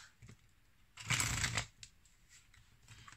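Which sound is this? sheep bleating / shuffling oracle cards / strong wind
shuffling oracle cards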